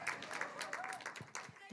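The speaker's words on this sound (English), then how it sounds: "They're being applauded for being." An audience at an arts of resistance festival applauds, a brief burst of clapping heard faintly beneath a person speaking.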